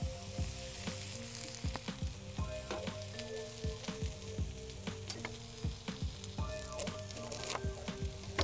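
Lamb sausages sizzle steadily on a plancha with a drizzle of olive oil, a close, continuous frying crackle with scattered sharp pops and faint scraping stirs, with no voices.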